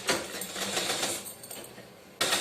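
A sewing machine stitches a blouse sleeve onto lined blouse fabric, a steady close mechanical whirr that slows and fades, then starts again abruptly at the end.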